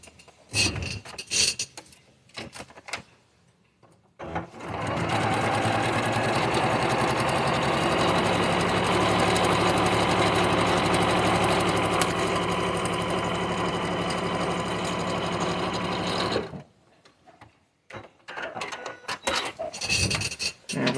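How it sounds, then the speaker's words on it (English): A sewing machine stitches along a marked line on a quilt block, running steadily for about twelve seconds, with quieter handling noises before and after. "I'm going to stitch right on that line there."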